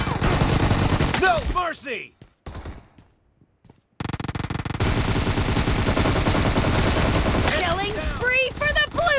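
Gunfire in the video game PUBG, with loud, rapid bursts of automatic fire that cut out briefly and then resume. A voice shouts over the shooting.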